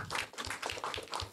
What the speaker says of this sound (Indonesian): Boleh kasih tepuk tangan untuk Kakak Nia